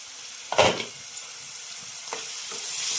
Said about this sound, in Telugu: ఉల్లిపాయ పేస్ట్ మొత్తం వేగిపోయింది